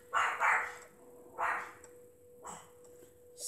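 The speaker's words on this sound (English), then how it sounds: "Sorry about our dog, she's outside." A dog outside a family home barks in three separate bursts, muffled and at a distance, the first a quick double bark, over a faint steady hum with no voices.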